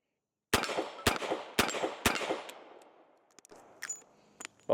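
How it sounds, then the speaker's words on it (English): Four sharp revolver shots from a Korth Ranger firing .38 Special rounds ring out at roughly half-second intervals, each with a ringing decay, followed by fainter metallic clicks and handling noises. "them 38 Specials right there sure are fun to shoot through this gun"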